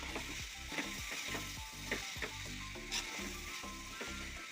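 Chicken thoran fries in a pan over low heat as it is stirred, a steady quiet sizzle with soft, irregular scraping of the spoon, set against a low rhythmic mechanical hum.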